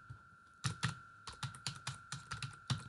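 Typing on a computer keyboard: a run of about ten crisp, fairly close keystrokes in an uneven rhythm, heard alone with a steady electrical hum beneath.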